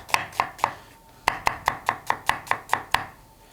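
Knife cutting vegetables into julienne strips on a board, about a dozen crisp, evenly spaced chops in two quick runs with a short pause between, close and clear with no voice.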